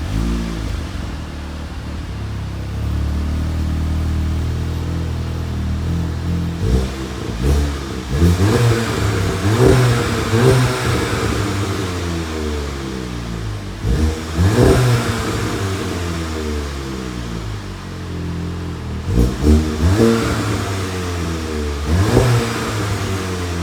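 A 2019 Volkswagen Golf GTI SE engine revs and accelerates repeatedly, rising through the gears with loud, throaty pulls and brief drops between shifts.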